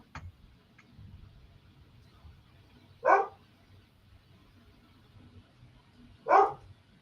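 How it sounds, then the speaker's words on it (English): A dog barks at other dogs across a road, giving two separate short bursts about three seconds apart over a low, steady outdoor background with no talking. "He's barking with the dogs across the road."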